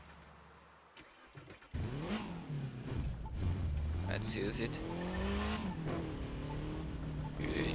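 A Volkswagen car engine in a video game revs hard and climbs in pitch, with tire squeal and skidding, loud and continuous, while a person briefly speaks at the start.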